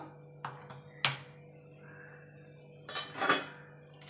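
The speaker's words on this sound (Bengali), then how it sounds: "এবার কড়াইটা বসিয়ে দেব।" A metal wok clanks onto a gas stove, with a couple of sharp knocks and a brief scrape of metal on the burner grate.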